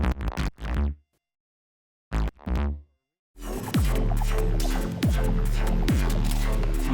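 A gritty, distorted bass synth, a psytrance bass patch in Vital run through the Sine Vibes Corrosion plugin, plays short stabs, pauses, then settles into a loud pulsing rhythmic pattern.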